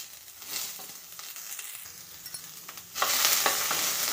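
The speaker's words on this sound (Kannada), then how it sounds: "ಈರುಳ್ಳಿ ಫ್ರೈ ಮಾಡ್ಕೊಳ್ಳೋಣ." Onions frying in a pan give a continuous close sizzle with stirring scrapes, for radish chutney; the hiss swells noticeably louder partway through.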